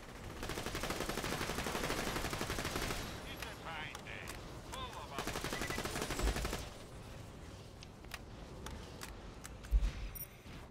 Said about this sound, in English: Do you hear the difference in the fucking assault rifle?